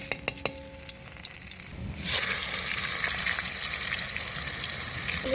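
Whole cumin seeds and dried red chilli dropped into hot mustard-style oil, sizzling up loudly after a quieter start with a few light taps, then a steady close crackle.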